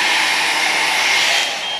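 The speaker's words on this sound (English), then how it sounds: "Now we'll test the multi-sensor with the hairdryer." A hair dryer blows steadily at a multi-sensor alarm detector, making a loud, constant whooshing whine at close range that tapers off slightly at the end, with no voices.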